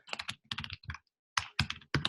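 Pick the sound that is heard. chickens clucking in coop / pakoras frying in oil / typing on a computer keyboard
typing on a computer keyboard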